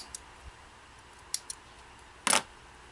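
Scissors snip thread during sewing on a Bernina 830 machine, a few quiet, sharp clicks spaced apart followed by a louder, brief cutting snap, in an otherwise quiet room.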